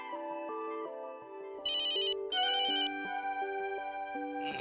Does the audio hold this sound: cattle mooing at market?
no